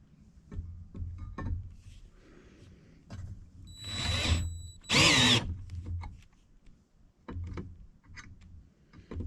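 Power drill boring into a diesel tank on a skoolie bus build, with a loose chuck; two bursts of whirring, the second louder and steadier, amid clanks and handling noises, no talk.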